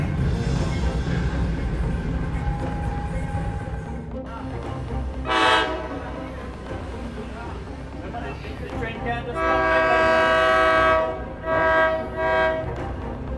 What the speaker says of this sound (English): Driver injured after Tri-Rail train hits car near West Palm Beach